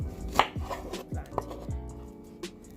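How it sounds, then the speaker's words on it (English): A knife chops plantain into small dice on a cutting board, giving about six distinct, close and fairly loud knocks in an uneven rhythm, with no one talking. "I'm going to cut the plantain in half like so, and I'm going to try to make dices or small chops."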